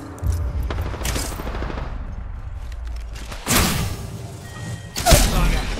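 Gunfire in the shooter game Apex Legends comes in several loud bursts of shots, with sharp cracks and thuds spread unevenly across the stretch over busy background game noise.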